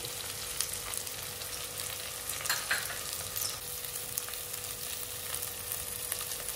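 Cinnamon sticks and cloves fry in hot oil for kichidi, making a soft, even sizzle with occasional faint crackles and a brief stir, fairly quiet and free of talk.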